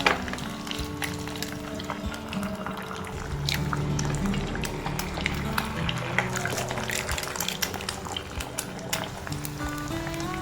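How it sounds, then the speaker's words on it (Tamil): Four eggs poured into melted butter in a pan sizzle and bubble steadily while being scrambled, a soft continuous frying crackle with occasional utensil taps. "ஒரு பேனில் பட்டரை உருக்கி 4 முட்டையை உடச்சி ஊற்றி ஸ்கிராம்பிள் பண்ணிக்கலாம்."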